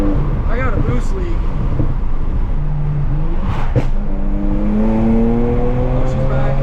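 A BMW 335i with a suspected leaking diverter valve and boost leak drives hard, its loud engine drone climbing steadily in pitch as it accelerates, with a voice talking over it at times.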